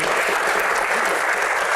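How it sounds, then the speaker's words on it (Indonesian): A comedy show audience breaks into dense, loud applause, a thick continuous roar of many hands clapping at once, close and unbroken for a short burst with no voices over it. "tepuk tangan"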